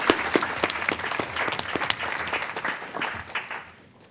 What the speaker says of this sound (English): So please give them a round of applause too for hosting our students this summer.